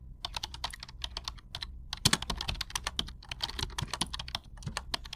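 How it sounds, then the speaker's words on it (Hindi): Rapid typing on a keyboard connected to a mobile phone, a dense run of close, crisp key clicks with brief pauses, alone without voices. "तो आपको इसी तरीके से टाइपिंग प्रैक्टिस करनी है"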